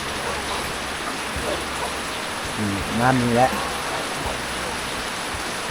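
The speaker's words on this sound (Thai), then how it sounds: "ฝนตกอันนี้เหมาะกับการพักผ่อนนอนเนาะ" Steady rain falls outdoors as a constant wash of hiss, with a person speaking briefly in the middle over it.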